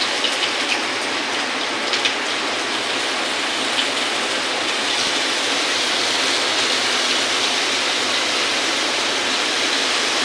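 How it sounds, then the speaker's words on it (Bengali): Pointed gourd dropped into hot oil in a home kitchen: a steady, dense hiss of frying that holds evenly and loud for the whole stretch, with no voices. "অ্যাকচুয়ালি তেলে পটল দিচ্ছি তো তার জন্যই আওয়াজটা হচ্ছে"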